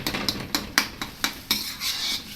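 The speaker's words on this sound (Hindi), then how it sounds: "टमाटर को सही हमने मैश कर लेना ताकि इसमें कोई भी टमाटर का पीस ना रहे" Utensil stirring and mashing tomatoes in a pan of frying chicken karahi, a Cholistani street-style dish, giving about seven sharp scraping clacks at a steady rhythm followed by a longer scrape, close and fairly loud with a faint sizzle beneath.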